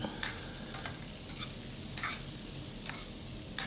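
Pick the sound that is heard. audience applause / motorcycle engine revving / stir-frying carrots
stir-frying carrots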